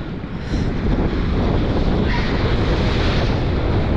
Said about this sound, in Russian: Волны действительно сегодня очень большие.